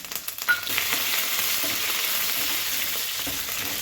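Cumin, mustard seeds, a dried red chilli and curry leaves frying in hot oil for a gongura chutney tempering, with a steady close sizzle, a few early pops and light stirring throughout.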